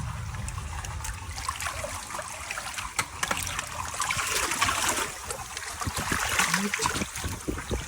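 Rainwater runs and trickles down a street in Kathmandu after heavy rain, a steady wash of flowing water with scattered splashes and small knocks, moderately close.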